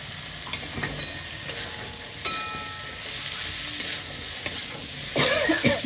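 Steady sizzle of mushrooms frying in a pan with a little cumin powder, with occasional scrapes and clicks of stirring.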